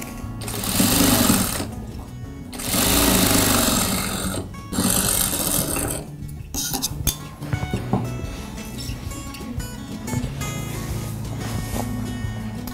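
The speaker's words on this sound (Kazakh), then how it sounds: "Қадап шығамыз да айландырып астарын тігіп аламыз." A sewing machine stitches a hat's lining in bursts: loud runs of rapid needle chatter broken by short pauses, then a quieter stretch of uneven clicking and handling noise, with no talk.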